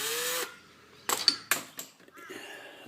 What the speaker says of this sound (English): So I'm just going to spin this in my reliable, handy little battery drill.